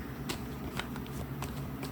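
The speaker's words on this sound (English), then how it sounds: "So I'll do my shuffling back behind the camera." Tarot cards shuffled close by, a quick series of soft riffling flicks in a rough rhythm over a low background hum.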